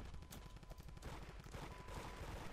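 Rapid gunfire from a gun in the Roblox game Da Hood Modded rattles in quick bursts, fairly loud and close, with no talking.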